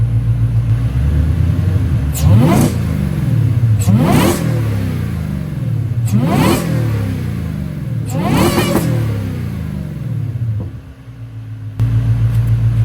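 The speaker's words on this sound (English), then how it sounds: "let's see what it sounds like just revving" A Ford Mustang engine with a Whipple supercharger and competition intake revs hard four times in a row, each blip rising with a whine before dropping back to a rough, rumbling idle.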